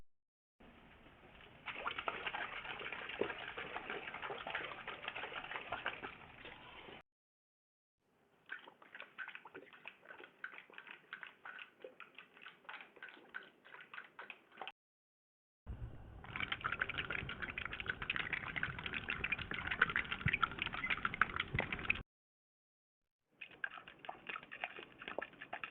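An AI-generated imitation of a dog drinking water from a plastic bottle: several separate stretches of crackly, wet lapping and sloshing noise, broken by short silences, with no voices.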